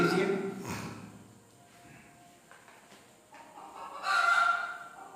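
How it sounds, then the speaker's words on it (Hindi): A rooster crows in the distance outdoors in India, faint rising calls behind a quiet room tone with a later louder burst, and no speech over it. "देखिए, इधर मुर्गा हल्ला किया"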